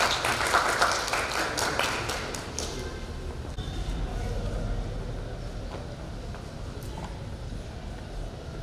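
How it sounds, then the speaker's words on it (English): A seminar audience breaks into applause to welcome a guest speaker, a few seconds of scattered, fairly distant clapping that fades into the hum of the room. "Let's welcome him with a big round of applause."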